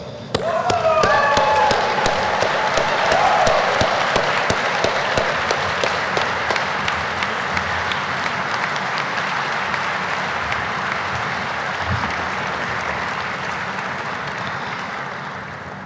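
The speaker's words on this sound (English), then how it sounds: "Will you please stand and give my commander a round of applause?" Sustained round of applause from a standing audience at a Navy fleet master chief's retirement ceremony, dense and loud at first, then tapering slightly while continuing steadily throughout.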